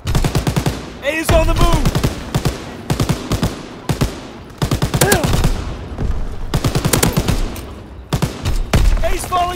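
Rapid bursts of automatic gunfire and single shots in Call of Duty WW2 multiplayer, loud and close, with short gaps between volleys while a voice talks over the fire.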